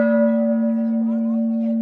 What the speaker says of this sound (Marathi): चला आपण वाजूया सर्वात मोठा घंटा.